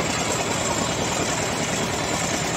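Old-model Eicher tractor engine idling while stuck with a trolley, a steady heavy diesel rumble with faint knocking, loud and close throughout, no voices.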